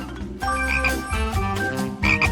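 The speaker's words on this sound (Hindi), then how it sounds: "और मेरा मेंढक भी ठीक है।" Loud, close frog croaks come in a few bursts in a playful indoor prank setting, with no talking over them.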